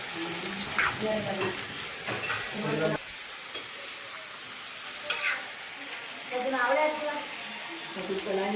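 Beans and potatoes fry in oil with a steady sizzle, and a spatula stirs and scrapes them in short bursts. A person talks over the cooking for part of the time.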